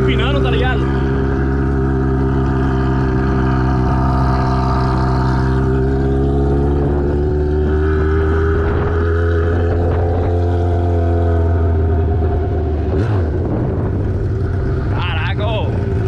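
A Yamaha XJ6 motorcycle engine revs hard and steadily while the rider holds a wheelie, a loud sustained drone with rising and falling pitch and wind buffeting throughout.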